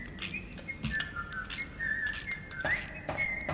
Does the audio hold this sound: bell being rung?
no